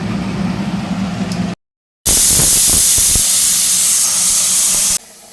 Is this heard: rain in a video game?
no